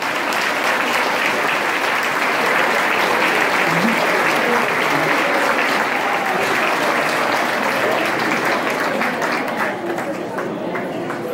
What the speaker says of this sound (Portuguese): grande aplauso em sua memória